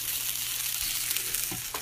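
Pan-fried ramen crisps on the bottom of a pan, giving a short burst of even, close sizzling crackle.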